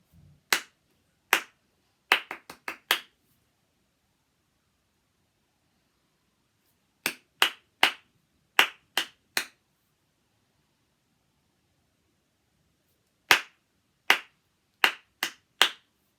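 Hand claps in a children's clapping rhythm game at a reception class: sharp, close claps in short bursts of two to five, separated by long silent pauses, with no talking.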